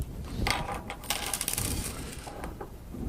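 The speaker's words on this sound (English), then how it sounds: "Remove the 2 corresponding lock washers and remove the cables." Small metal lock washers and cables are removed from a Motorola SLR 5000 series repeater, giving close, irregular metallic clicks, jingles and handling rattles at a moderate level.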